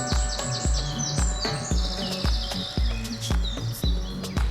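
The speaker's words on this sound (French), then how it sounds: "c'est quand même de se taire et d'écouter les oiseaux." Birds singing in Fontainebleau forest, several bright chirps and trills overlapping at moderate distance, clearly audible over a regular thudding of footsteps.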